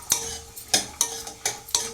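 A spoon stirring ingredients for sheer kurma in a frying pan, five sharp metallic scrapes at a steady rhythm with a faint sizzle beneath, close and fairly loud, no talking.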